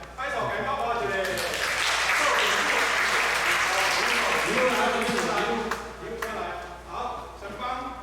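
Sustained applause fills a church service as two students come forward, a dense crowd of clapping that swells for several seconds, then thins and fades with a voice speaking underneath.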